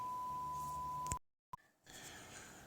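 A steady sine test tone plays through a high-distortion amplifier in a microphone test, then cuts off abruptly, leaving a short blip and faint hiss.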